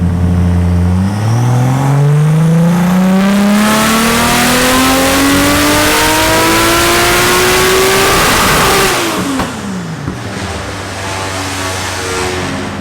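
A turbocharged 2JZ engine in a Toyota Chaser revs on a dyno, pitch climbing steadily for several seconds in one loud sustained pull, then dropping sharply as the throttle closes and settling into a lower drone.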